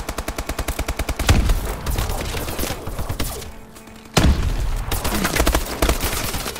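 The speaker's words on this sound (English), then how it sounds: "Laser guns are so unfair." Rapid laser-gun fire in Call of Duty Advanced Warfare, a fast, even burst of loud repeated shots that stops briefly and then resumes with more bursts amid gameplay noise.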